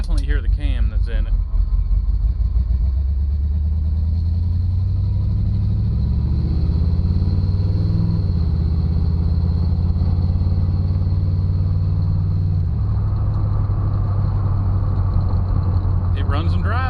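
A 1990 Ford Mustang 5.0 with an aftermarket cam and a misfire idles loudly and close, a steady low lumpy rumble with shifts in pitch as it runs.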